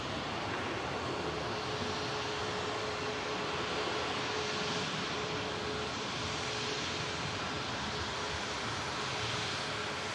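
An all-white aircraft taxis at Manchester Airport, a steady, distant engine rumble and whine holding for about ten seconds with no voices.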